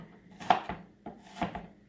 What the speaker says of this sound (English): And I just chop through them.